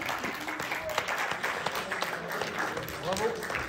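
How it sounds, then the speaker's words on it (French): An awards ceremony crowd applauds steadily throughout, the clapping mixed with voices and a few cheers over a continuous wash of hand claps. "on peut l'applaudir."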